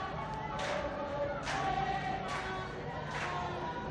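A football stadium crowd at a women's championship match between South Africa and Lesotho sings steadily. Distant massed voices swell in a regular rhythmic chant under a constant crowd roar.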